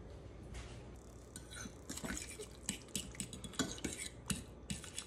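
A utensil stirs melted cream cheese and butter in a bowl, giving soft, faint scraping and clinking with small wet sounds in an irregular rhythm, steady throughout.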